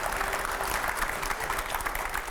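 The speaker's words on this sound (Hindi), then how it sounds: "इसके लिए तालियां होनी चाहिए" An audience applauds a film during an interview event, giving a brief, steady patter of many clapping hands at moderate loudness with no voices over it.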